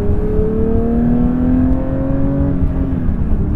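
A 2022 Porsche 911 GT3 engine heard from inside the car, a loud sustained drone with pitch sliding as revs change during downshifting, near and alone.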